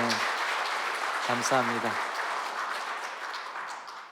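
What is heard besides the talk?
congregation applauding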